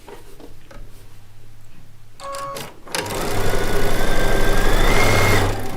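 A sewing machine stitches rows of a charm-pack quilt block together, a few short bursts and then a loud, continuous, close mechanical whir.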